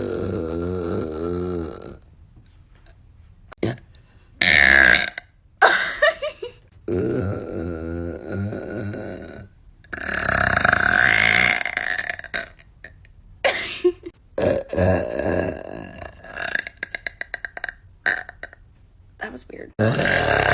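A woman lets out several loud, drawn-out burps in close succession, separated by short pauses and brief spoken remarks, with a few shorter belches toward the end.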